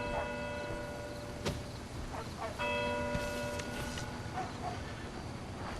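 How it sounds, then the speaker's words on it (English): Church bells ring out in the town of the Red Dead Redemption 2 game at around midnight, struck a few times at a moderate distance over a steady background of ambient game noise. "Can hear those bells going off."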